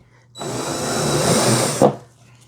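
A power drill cuts a circle into a plastic Old Town Ocean Kayak Malibu PDL hull, a steady close whine lasting about a second and a half that ends abruptly, then quiet.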